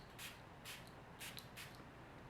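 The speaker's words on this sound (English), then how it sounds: "I just spray this Jurlique on my face" Jurlique Rosewater balancing mist is sprayed onto a face in four short, soft hissing bursts at a steady pace, close and quiet, with no talking.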